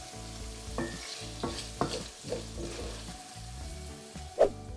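Garlic, turmeric powder and pepper sizzle and fry in a pan, stirred with repeated scraping strokes over a steady close sizzle, with a sharper clatter near the end.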